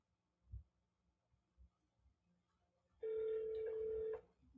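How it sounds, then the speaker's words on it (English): Outbound phone call to an AI voice agent for an e-commerce company ringing through, with faint low thumps first and then a single steady ring tone lasting about a second. "So let me call the inbound caller right now."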